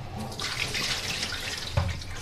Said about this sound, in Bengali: দিয়ে আবার কল চালিয়ে 3-4 বার করে এটাকে ধুয়ে নেব